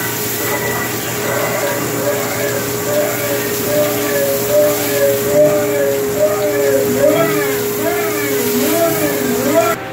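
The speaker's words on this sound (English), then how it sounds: "turning it on the lathe." A lathe runs with a steady motor hum while face knurling a 22-inch plate with a single knurl wheel, and a wavering, rising and falling whine builds up toward the end. The sound is close and continuous.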